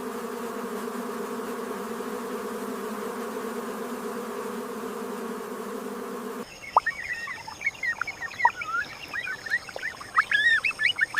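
A young shoebill chick in a swamp nest calls in quick, thin chirps and rising peeps, a rapid irregular series heard close after a steady insect-like drone gives way.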